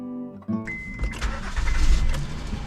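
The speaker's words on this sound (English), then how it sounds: "But now the remote is still not working, but it should start the car." A 2009 Honda Pilot engine cranks and catches with a newly programmed key, a short starter whir followed by a rising, rumbling idle, close and fairly loud.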